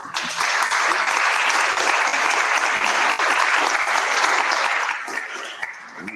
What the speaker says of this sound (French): Je pense qu'on peut à nouveau les applaudir.